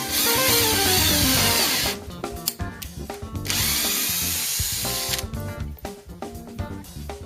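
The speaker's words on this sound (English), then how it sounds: "pre-drill the top of the door for the anti-jump blocks" A power drill whirs loudly at close range in several bursts, its motor pitch rising and falling as it pre-drills holes into a wooden barn door, with brief pauses between runs.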